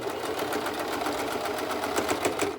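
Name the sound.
sewing machine stitching a no-fog mask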